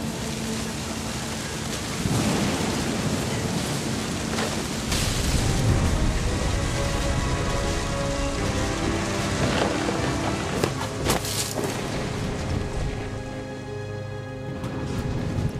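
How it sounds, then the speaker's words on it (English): Thunder and heavy rain in the video game What Remains of Edith Finch, with a constant roaring downpour and deep rolling rumbles that swell and crack nearby throughout, with no voices. "The thunder sounded much too close and full of angry power"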